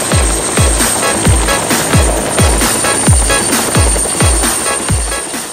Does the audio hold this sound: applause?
no